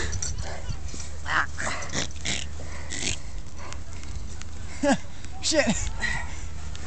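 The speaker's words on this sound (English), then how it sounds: "there's a dog." A dog whimpers and yips in short bursts amid a noisy room during a mixed martial arts session, with people talking and moving around it.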